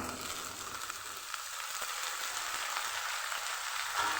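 Beans and potatoes fry with onions in a pan, making a steady, moderately quiet hiss of sizzling oil that continues evenly without any speech.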